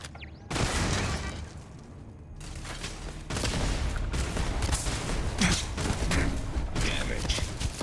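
Rapid bursts of gunfire in the video game Starfield crackle in repeated volleys, loud and dense, with a brief quieter stretch early on.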